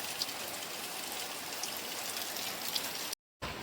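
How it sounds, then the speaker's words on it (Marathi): Heavy monsoon rain pours steadily in Kankavli, a dense, even hiss of drops drumming on surfaces, loud and continuous with no voices, briefly cutting out near the end. "जोरात पाऊस येलो आता।"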